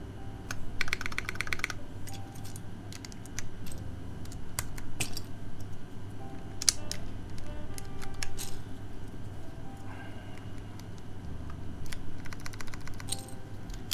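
Fingers type on a mechanical keyboard fitted with GMK keycaps, producing a steady patter of clacky keystrokes with occasional louder bursts, close up and without talk.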